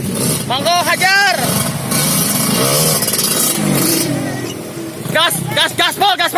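A motorcycle engine is revved hard at full throttle on a rural road, roaring loud and close in rising and falling bursts while people shout and cheer over it.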